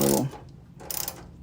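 A ratchet wrench loosens a bolt on the front suspension of a Bel Air, giving a loud clatter and then a short run of quick, close clicks.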